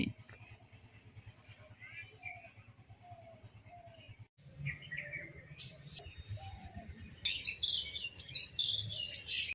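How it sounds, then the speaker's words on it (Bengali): Pigeons kept at a home coo softly in low, repeated pulses, mixed with scattered higher chirps and tweets, fairly faint and continuous with light background noise. "3 পিস কবুতর আমি বাড়ির জন্য নিয়ে এসেছি।"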